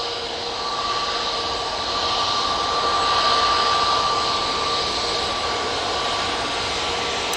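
A jet airliner takes off from Manchester Airport bound for Split, heard as a steady, fairly distant whine and rushing roar with a thin sustained tone, holding at a constant level throughout without speech.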